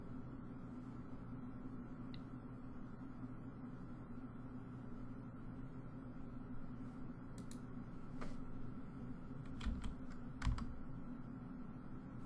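Keys on a computer keyboard are tapped in a short cluster of quick clicks toward the end, over a steady low room hum, with no one speaking.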